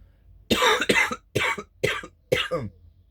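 One person coughs five times in quick succession, each cough loud and close with brief gaps between, in an otherwise quiet setting.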